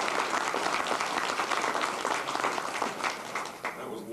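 Dinner guests applaud during a speech at the Wayne Morse Integrity Dinner, a fairly distant, continuous patter of clapping across a banquet room that keeps going steadily for about four seconds.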